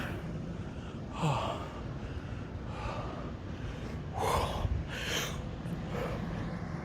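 Heavy, ragged breathing from someone out of breath after climbing a steep hill outdoors, a few loud gasping exhales and sighs over a rumbling background of wind or handling noise.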